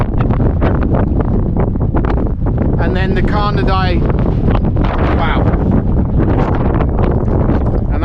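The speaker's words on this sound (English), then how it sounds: "and that's real windy" Strong wind on a mountainside buffets the microphone with constant roaring rumble while someone talks over it.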